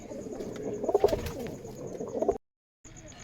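A Rajshahi Giribaz pigeon with long feathered feet coos close by in two throaty, rolling bursts, the second cut off by a brief dropout before faint background sound resumes.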